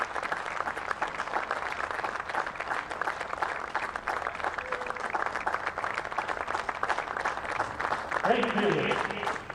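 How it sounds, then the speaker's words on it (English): Stadium crowd at an Orange County SC soccer match applauding healthcare workers: steady, dense applause across the whole stretch, with a voice briefly speaking near the end. "across Orange County applaud the healthcare heroes"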